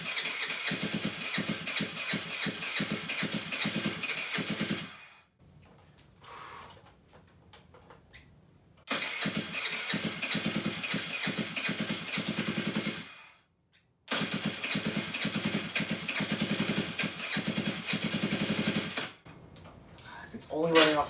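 A GY6 139QMB scooter engine fitted with a 100cc big bore kit on a Honda Ruckus clone cranks and runs in loud bursts of several seconds each, broken by short quiet pauses, with a faint ticking mechanical rhythm throughout.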